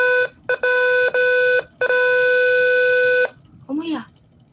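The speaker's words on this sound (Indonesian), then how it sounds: "di sini buzzer tadi sudah mengeluarkan bunyi" A loud electronic buzzer on a mini-alarm circuit blares in several bursts, a short beep, a brief gap, then a long continuous tone; a voice speaks briefly in Indonesian afterward.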